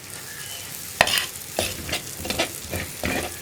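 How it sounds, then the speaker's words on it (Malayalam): Cooked dal is stirred in a pan with dried red chillies frying over medium flame, spoon scrapes and clacks repeating roughly every half second over a soft, steady sizzle. "വറ്റൽമുളക് ചേർത്ത് മീഡിയം ഫ്ലെയിമിൽ ഇളക്കി കൊടുക്കുക"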